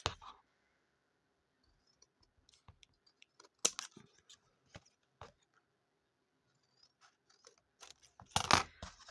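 Scissors cutting card during a craft project with playing cards: sparse, faint, close snips and clicks, then a louder crunching cut near the end.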